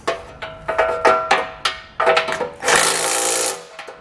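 Short bursts of a power tool with a swivel socket whirring in quick pulses while tightening trailer hitch hardware on a 2021 Subaru Outback Wagon, followed by a longer sustained run, close by, with clicking between bursts.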